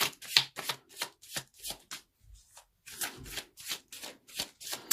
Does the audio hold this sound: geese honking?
no